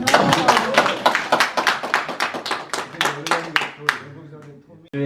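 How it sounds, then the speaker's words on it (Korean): A seminar audience at a Jeonbuk–Jeju exchange academic seminar claps in a brisk scatter of sharp, close hand claps that thin out toward the end, with some voices mixed in. "우리 톰 청년한테 박수 좀"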